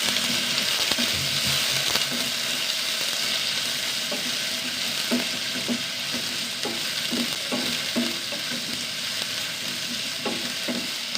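Onion sautéing in coconut oil in a pan, a steady close sizzle with occasional soft scrapes and stirring taps of a spoon throughout.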